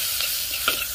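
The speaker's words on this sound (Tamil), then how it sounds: "இப்போ வந்து நல்லா வதக்கி விட்டுலாம்." Shallots, garlic and green chili sauté in oil for fried fish curry, a bright close sizzle with a couple of soft stirring scrapes over one brief second.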